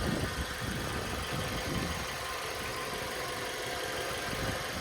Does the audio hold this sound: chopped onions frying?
no